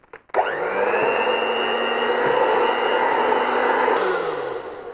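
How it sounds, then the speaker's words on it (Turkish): Ciabatta dough made with flour, olive oil and yeast is kneaded, with salt still to come. A loud, steady motorized whir starts abruptly and runs unbroken to the end, with no voices. "Ve hamuru yoğurmaya başlıyorum."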